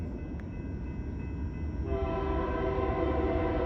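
A Norfolk Southern freight train in Gaffney, South Carolina rumbles steadily nearby, and its horn comes in partway through, holding a sustained multi-tone blast over the rolling noise of the cars.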